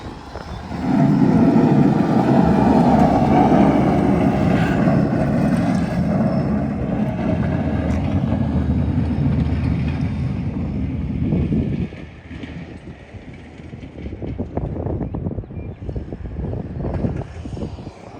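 Heavy machine scraping down the bulk section of a landscape supply yard, a loud, steady low engine roar with grinding for about eleven seconds, then dropping to a quieter rumble with scattered clunks.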